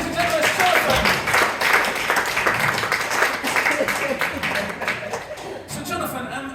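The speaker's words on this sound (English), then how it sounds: "Give him a big round of applause, ladies and gentlemen" An audience at a live comedy hypnotist show at the Faversham Fringe 2025 claps in a dense, steady round of applause lasting several seconds, with a voice talking over it and some laughter, the clapping thinning slightly toward the end.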